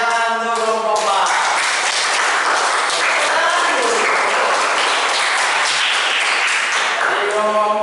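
A classroom full of students breaks into loud, sustained applause, dense clapping filling the room for several seconds, with a speaking voice heard at the start and end.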